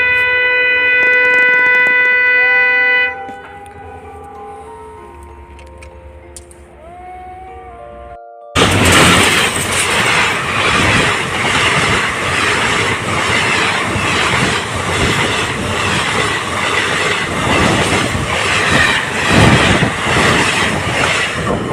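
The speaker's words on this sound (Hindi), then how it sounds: "हम यहीं पे खड़े होकर ट्रेन पास कर दें और सामने ट्रेन की लाइट दिख रही है।" A train passes close by a railway track at night during a track patrol: sustained tonal sounds at first, then a sudden loud, steady roar and rattle of wagons and wheels that fills the rest of the clip.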